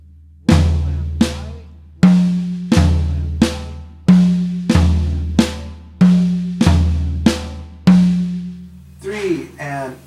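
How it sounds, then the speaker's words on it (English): On a drum kit, a right Swiss triplet moves between the toms and the snare in a repeating pattern of sharp accented strokes with ringing tom decay, loud and close, ending in a looser fill. "I'll demonstrate a right Swiss Triplet between the toms and the snare"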